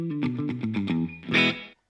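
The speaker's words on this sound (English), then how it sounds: "You can hear the pedal engaged, but it's just not a lot of involvement" An electric guitar runs through an ambient reverb pedal set to an equal dry and wet mix. A quick series of plucked notes gives way to a brighter strummed chord, and a short reverb tail cuts off abruptly at the end.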